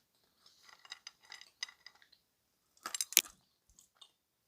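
Crunchy white edible clay chewed close to the mic, with scattered dry crackly bites building to a louder, denser burst of crunching before fading to a few faint chews in a quiet room.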